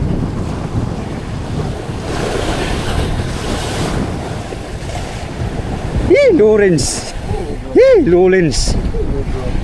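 Steady wind and ocean surf roar on the open Pacific, recorded from a boat at sea, with a voice cutting in over the noise near the end.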